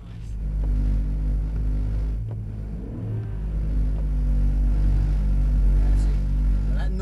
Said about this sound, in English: Noise is just the tyres running sideways.